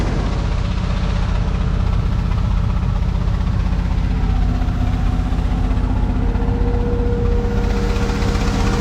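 A boat engine that had not run in three years and is fitted with the wrong carburetor runs steadily, a loud, close, continuous throbbing drone with no pauses or talking.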